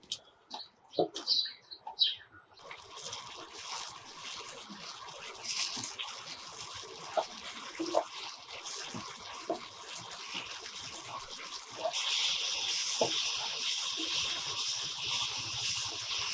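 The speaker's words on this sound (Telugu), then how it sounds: "ఇప్పుడు ఫ్లేమ్ మీడియంలో పెట్టుకుని ఈ టమాటా పేస్ట్లోంచి ఆయిల్ వచ్చేంత వరకు వేయించుకుందాం." Tomato paste fries over a medium flame until the oil separates, making a continuous soft hiss with scattered small pops and spits that grows a little louder toward the end.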